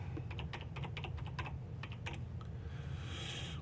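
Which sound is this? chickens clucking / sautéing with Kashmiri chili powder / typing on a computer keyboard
typing on a computer keyboard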